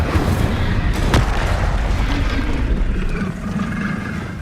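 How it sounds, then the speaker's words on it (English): An Incendio fire spell goes off in Hogwarts Legacy as a loud, sustained roaring burst, with a sharp crack about a second in, then a steady dense rumble that eases slightly near the end. "Incendio."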